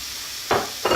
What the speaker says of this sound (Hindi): गाजरों को हम लाइट फ्राई करेंगे, थोड़ा सॉफ्ट ताकि हो जाएं